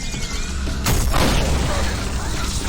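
A single sudden blast erupts in the video game ULTRAKILL after a parried bullet, a sharp boom followed by a rumbling decay over busy game noise.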